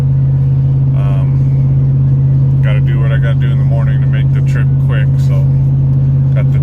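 A truck cruises along a freeway in the dark, its steady low engine drone and road rumble continuous throughout, with someone talking over it.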